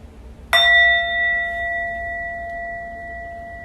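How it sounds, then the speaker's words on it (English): A meditation bell struck once, ringing out loud and clear with a sharp strike and a long, pure sustained tone that slowly fades in a quiet room. "And the meditation will begin and end with the bell."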